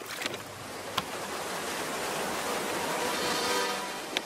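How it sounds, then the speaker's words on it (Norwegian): Roaring waterfall in a Fireman Sam cartoon, a steady broadband rush of falling water heard alone and fairly close, swelling slightly toward the end with a few faint knocks. "Det er den store fossen."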